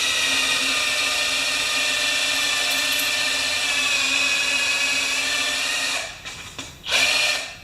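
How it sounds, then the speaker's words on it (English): A power drill whines steadily and loudly up close as it drills out the rivets on the rewind housing of a 5-6HP Briggs Quantum push mower, then the pitch falters and cuts in and out near the end. "I'm going to remove that rewind housing with a drill. I'm just going to drill out the rivets."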